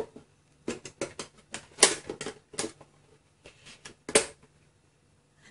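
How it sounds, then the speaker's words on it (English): A trimmer router cutting wood for a side-opening window box, heard as a series of sharp, close bursts in quick irregular clusters separated by brief pauses, with no speech. "So I'll bring in my trimmer again."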